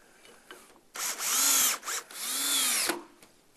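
A power drill drives screws during an installation, with a short whir, then two longer loud spins that ramp up and down, close and alone.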